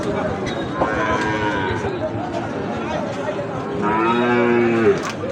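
Cattle, including Gir and Sahiwal bull calves, moo loudly several times over a busy livestock market crowd, with people chattering throughout.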